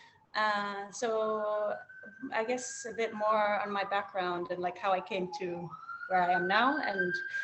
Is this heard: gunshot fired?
no